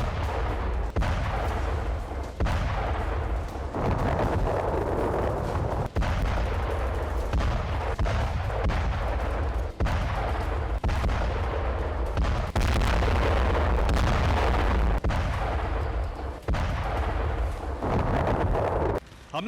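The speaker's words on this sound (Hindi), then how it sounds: "बमबारी कर रही है।" Aerial bombardment over Khan Younis, Gaza: dense, continuous rumbling blasts and booming detonations, loud and sustained throughout with repeated sharp impacts.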